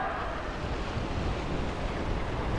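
Story sound effect of wind and waves as the sea parts, a soft, steady wash of surf with low wind rumble, continuous and moderately quiet throughout with no voices.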